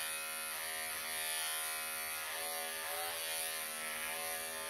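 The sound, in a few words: electric clippers grooming a Persian cat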